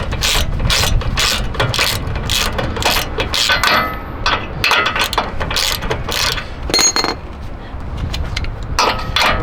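Air ratchet spinning a bolt off Chevy Silverado truck suspension during a leveling kit install, loud close bursts of rapid mechanical rattling in quick repeated runs with short gaps.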